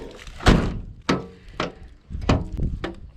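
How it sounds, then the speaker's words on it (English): An old, abandoned Jeep Wagoneer door being forced open, heard as several loud, close metallic thunks and clunks of uneven strength spread across a few seconds. "this door's kind of tough to open"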